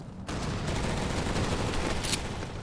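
Grenade blasts in Crackdown 2 erupt into a loud, dense roar after a brief quiet start, sustaining a heavy rumbling barrage with a sharper burst near the end.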